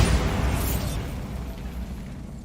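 A Bombarda blasting spell in Hogwarts Legacy goes off as a loud, dense boom that decays into a rumbling roar over a couple of seconds.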